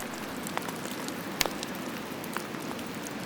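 Steady rain in Ireland patters on surfaces all around, a constant soft hiss with occasional louder drops close by.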